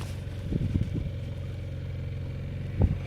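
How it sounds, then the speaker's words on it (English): Sailboat's auxiliary motor running again after stalling, a faint steady low engine hum with a few short clattering knocks near the start and one more near the end. "Alright, we got the engine back up and running."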